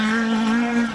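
A rally car at a stage event power slides past close by, its engine holding a loud, steady buzzing note for a brief moment with strong harmonic tones.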